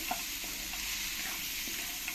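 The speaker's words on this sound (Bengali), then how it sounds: "এবার এর মধ্যে ভাজা বড়িগুলো দিয়ে দেবো দিয়ে ভালো করে একবার এর সঙ্গে মিশিয়ে নেবো" Fried lentil bori are stirred into a ridge gourd curry in a pan, giving a steady, soft sizzle with light scraping throughout.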